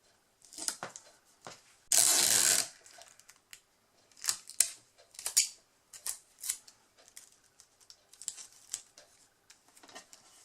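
A long strip of adhesive tape is pulled off the roll with a rasping tear, then scattered snips and light taps follow in a quiet, close setting.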